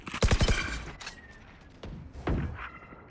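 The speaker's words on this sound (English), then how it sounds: "That's a lot of gunshots heard." Gunfire in a Valorant esports match: a rapid burst of sharp shots up front, followed by a few scattered single shots and thuds at varying distance, under a busy game soundscape.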